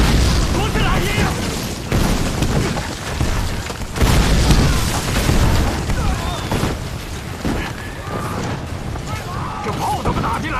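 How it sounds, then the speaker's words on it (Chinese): Heavy cannon fire booms repeatedly in a battle scene of a historical Chinese drama, dense rumbling blasts layered with chaos and continuous throughout. "这炮怎么打进来了？"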